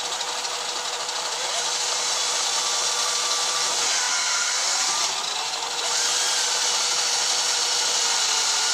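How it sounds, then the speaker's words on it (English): A power drill held at speed with its trigger taped runs a 1/8 inch bit in a steady high whine, close and continuous, with a dip in pitch midway as it bites into the workpiece. "Get the 1/8 inch drill bit."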